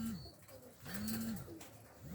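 Doves coo at a rooftop spot, two soft, rounded low calls with a pause between them, heard fairly close over faint background noise.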